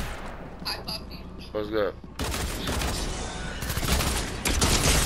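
Gunfire from the video game Fortnite: dense bursts of shots and booms fill most of the clip, loud and continuous after the first couple of seconds, with players talking over the fighting.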